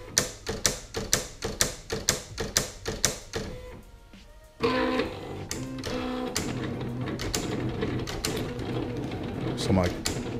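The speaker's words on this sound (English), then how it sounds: "That is adjusting the actual cutter." Silhouette Cameo cutting machine setting its cutter, giving a quick series of sharp mechanical clicks and ratchets followed by a whirring motor drive.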